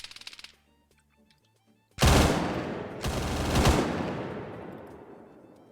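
Suppressing gunfire in Arma 3: a loud sustained burst of automatic fire breaks out suddenly, then a second surge of shots follows, with a long echoing tail afterward and no talking.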